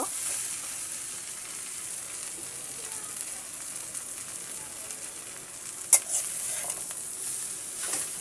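Jute leaves being stir-fried in a pan with chopped onion, garlic and salt, a steady hiss of sizzling with brief stirring clatter near the end, close and moderately quiet, no voices.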